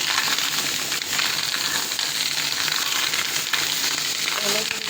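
Garlic cloves frying in hot oil, giving a steady, dense crackling sizzle that holds evenly throughout, close and fairly loud with no talking.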